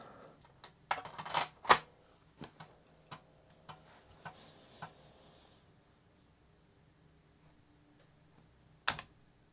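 Keys clack on a repaired Amiga 500 keyboard from a Rev 5 board machine: an irregular burst of loud, close taps early on, then sparser isolated presses, a long quiet gap and one final sharp keystroke.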